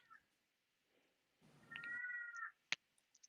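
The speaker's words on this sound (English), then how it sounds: "That's my cat." A house cat meows once, drawn out and fairly close, in a quiet room, followed by a few faint clicks and soft knocks.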